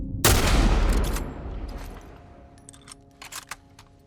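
Gunfire in the video game The Last of Us Part I, one loud sharp blast that rings out and decays over a couple of seconds, followed by a few faint clicks and thuds.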